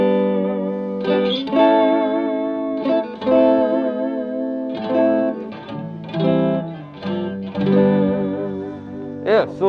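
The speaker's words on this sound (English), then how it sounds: "that is the sound of the bridge of the GNL" G&L electric guitar with a dual fulcrum bridge played through effects, giving several ringing chords and notes with a chorus and reverb wash. Bursts of playing come every second or two, loud and close, with sustained notes that waver in pitch.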